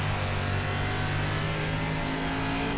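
A limited dirt late model race car engine in the iRacing sim at Volusia Speedway, a continuous loud drone at high revs that stays steady throughout with no breaks and no speech.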